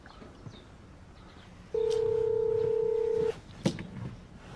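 A telephone on speakerphone gives one long steady tone after a few faint dial sounds, then a short click, heard fairly quietly indoors with no talk over it.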